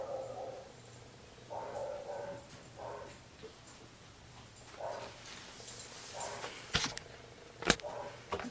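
A dog gives a few scattered, faint barks and whimpers from another room, spaced out over several seconds against a quiet indoor background, with a couple of sharper knocks near the end.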